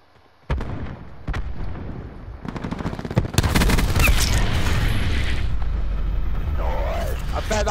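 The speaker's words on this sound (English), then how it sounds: "I bet that grenade scares the shit out of him" Gunfire and a grenade blast in Call of Duty: Black Ops 4 Search and Destroy, a few sharp shots building into a loud, sustained explosion roar that lingers and slowly tails off, close and dominant.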